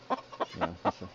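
A rooster clucks in a quick series of five short, throaty notes, close and fairly soft, with no other sounds around.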